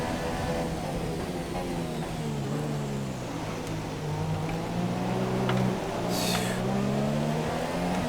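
Formula One car engine in F1 2017 at the Malaysia circuit, a steady high whine that rises and falls with gear changes as the car is driven through corners, close and continuous.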